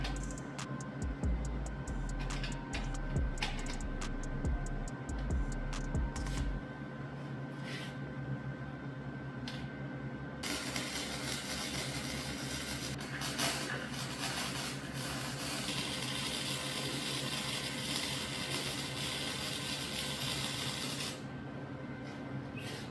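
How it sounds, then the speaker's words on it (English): TIG welding a custom 4-inch stainless steel exhaust for a Ford F150 EcoBoost, a steady crackling hiss that runs through most of the stretch with a few short pauses and arc restarts, loud and close, with no talking. "Fits good, let's weld her up."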